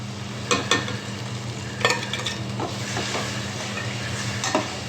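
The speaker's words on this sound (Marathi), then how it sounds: "आता मी त्याला छान असा मिक्स करून घेते" Eggs with tomatoes, green chilli chutney and turmeric are stirred in a frying pan, a steady sizzle under a few distinct scrapes and clinks of the spoon against the pan, close by.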